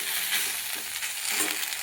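Okra sliced for a Marathi-style stir-fry sizzles in a pan with roasted green chillies, a steady hiss broken by gentle scraping stirs, close by and with no voices.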